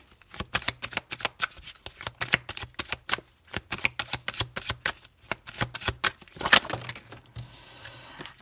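Symbolon oracle cards are shuffled by hand at close range. Quick papery riffles and slaps repeat in rapid bursts with short pauses between them, ending in a brief louder flurry.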